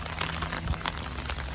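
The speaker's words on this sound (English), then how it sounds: "Oh god, it's raining." Rain falling outdoors, likely on a street near a fast food restaurant, as a steady broadband patter throughout with no talk over it.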